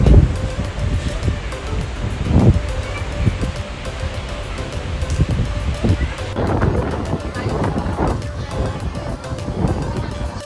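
Strong wind buffets a cruise ship at sea off Castaway Cay, a steady roar of gusts and microphone wind noise with surf underneath, loud and continuous throughout.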